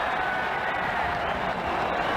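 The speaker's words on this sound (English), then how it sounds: "The crowd really enjoyed that one." A cricket crowd in Ashes Cricket 2009 applauds and cheers after a well-placed shot, a dense, steady wash of clapping at moderate distance.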